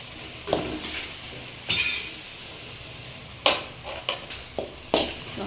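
Ghee rice ingredients with a ground paste and rock salt sauté in a pan, a soft continuous sizzle broken by several sharp spoon-against-pan scrapes and clinks at irregular intervals.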